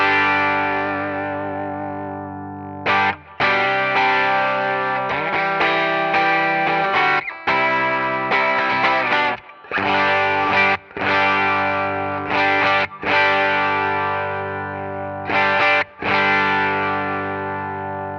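Electric guitar played through a Helix Native amp model with a 66DR 1x12 Jensen cabinet impulse and a dynamic hall reverb, overdriven chords and riffs in bursts with short breaks, loud and alone.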